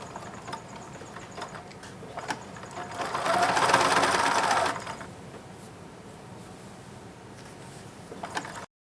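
A sewing machine runs in a steady mechanical whir, stitching around the edge of a T-shirt rag quilt, with a louder sustained burst in the middle and quieter clicks and handling noise before and after.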